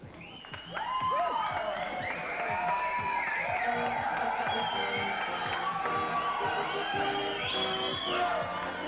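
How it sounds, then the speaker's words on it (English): A studio audience bursts into cheering, whooping and clapping for a car unveiling on a 1989 TV show, loud and sustained with excited shouts rising over the applause. "So I want a big round of applause, please, for the final unveiling of our two cars."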